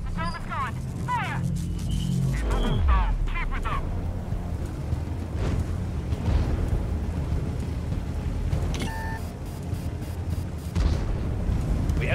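Heavy tank guns boom in a video game battle, several deep blasts standing out over rumbling background noise, with voices talking through much of it.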